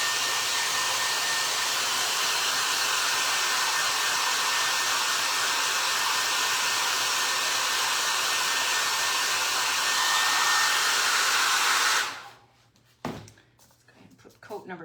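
A hair dryer blows steadily and loudly on drying paper mache boxes, then cuts off near the end, leaving a thump and faint handling noises.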